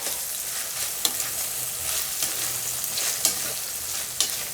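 Prawns and tomato fry in a pan for gongura prawn curry, a steady loud sizzle broken by a few sharp scraping stirs of a spoon against the pan, with no voices.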